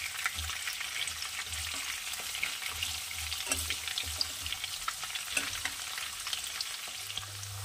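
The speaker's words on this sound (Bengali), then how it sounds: "আলুগুলো ভাজা হয়ে গেছে" Potatoes sizzle and crackle steadily in hot oil in a pan for a Bengali-style Aar fish curry, with occasional stirring clatter and a low hum beneath, no voices.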